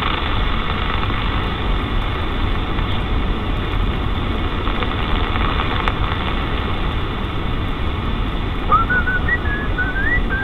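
A CB radio operator whistles over the air, a wavering melodic whistle near the end of a steady hiss of radio static and a constant buzz of background noise, with no speech.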